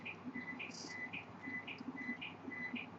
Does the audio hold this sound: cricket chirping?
yes